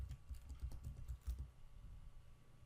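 Fast typing on a computer keyboard to search for an app in Ubuntu, a brief run of soft, quiet key taps that trail off after a second or so, faint and without speech.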